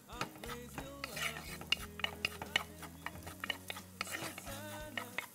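Onion added to a pan and stirred, with clinking utensil taps and scrapes against the pan in an uneven rhythm, close and fairly quiet, set over a low steady hum.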